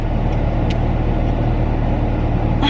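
A 2017 Chevrolet Silverado truck drives steadily, its engine and road noise a constant low rumble heard from inside the cab, with no talk.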